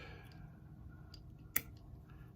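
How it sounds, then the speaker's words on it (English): Scissors snip fly-tying wire in a single sharp click, heard once, close and alone over faint background noise. "I'm going to cut the wire"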